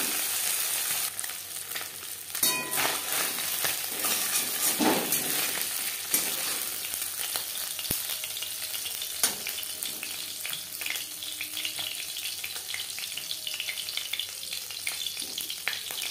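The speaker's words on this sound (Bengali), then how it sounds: "প্রথম ব্যাচের মাছ ভাজা হয়ে গেছে।" Small mourola fish fry in hot oil in a pan, with a continuous close sizzle and occasional sharper crackles and utensil clatter, some splashing water faint in the background, and no voices.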